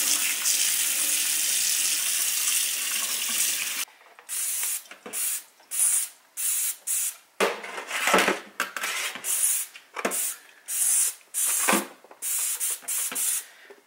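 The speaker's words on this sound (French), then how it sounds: "Je vais rincer ça un peu, puis après je vais remettre du power wash dessus" Spray bottle of Power Wash hissing steadily over a Scrub Mommy sponge, then a series of short bursts and water rinsing, close and loud with no talk, while cleaning a dishwasher.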